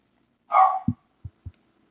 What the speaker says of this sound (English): Welcome to my dogs yelling in the background while I'm attempting to sculpt a face.